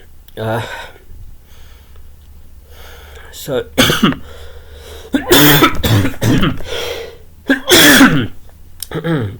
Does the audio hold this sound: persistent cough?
yes